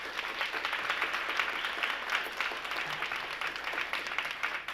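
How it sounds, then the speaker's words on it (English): Steady applause from an audience at a Martin Luther King Jr. community celebration, a dense, even patter of many hands clapping that holds at a moderate level throughout without a break. "Let's give them a round of applause"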